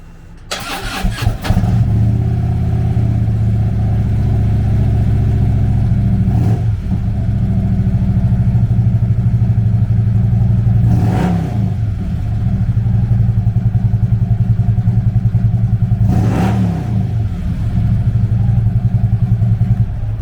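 A 2012 Harley-Davidson CVO Street Glide with ABS starts up with a sharp burst, then idles loudly with a steady deep rumble, broken by three brief revs spaced several seconds apart.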